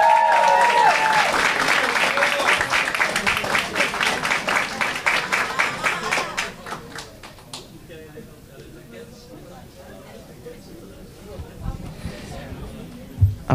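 Seminar attendees at a public-policy event on LGBTQIA+ issues give a loud burst of applause. The clapping is dense at first, then thins into scattered claps and low room noise.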